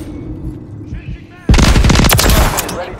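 Call of Duty MW3 gunfire, a loud close burst of rapid automatic shots that breaks in abruptly after a low rumbling lead-in and hammers on for about a second, with voices in the background.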